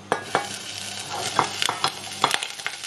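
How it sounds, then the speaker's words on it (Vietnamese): Pickled mustard greens stir-fried in a pan with a little garlic oil give a close, steady sizzle, broken by irregular scraping taps of a utensil tossing them. "xào cải chua"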